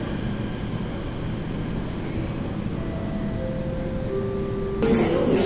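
An MTR Kwun Tong line train pulls into Yau Tong station with a continuous rumble and drawn-out tonal motor whines that shift in pitch, and a louder burst near the end.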